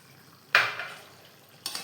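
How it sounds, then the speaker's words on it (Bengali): Mustard chicken is stirred in a pan with a sudden scrape and sizzle that fades slowly, followed by a second shorter clatter of the spoon against the pan. "দিয়ে ভালো করে কষাবো।"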